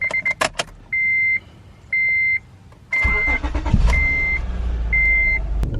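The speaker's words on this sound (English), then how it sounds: "So we hopping up in the Acura right now" A 2006 Acura TL with an alternator fault sounds a series of evenly spaced electronic warning chimes before its engine starts and rumbles steadily under further regular beeps, close by, with no talking.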